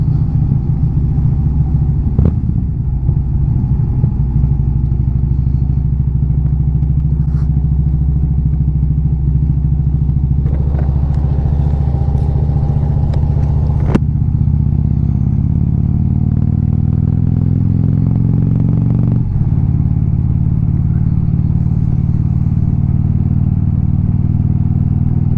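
A Harley motorcycle rides through East Bay canyon roads, its engine a loud, close, continuous rumble with shifting pitch as it accelerates and eases off, plus wind buffeting and occasional clatter.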